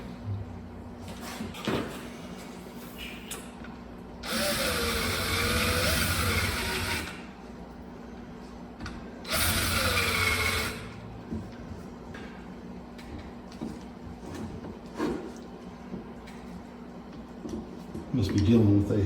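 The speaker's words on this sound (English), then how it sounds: "countersink this hole a little bit with a drill" Two bursts of a power drill whirring for a few seconds each while countersinking a hole in metal on a vehicle lift, separated by quieter shop clatter and handling noises.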